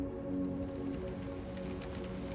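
Heavy rain drums against a train window as the train winds through mountains under storm clouds, a steady dense patter over a constant low rumble of the moving carriage, with no voices.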